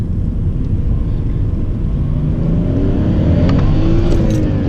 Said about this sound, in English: I'll wait till this car goes by then.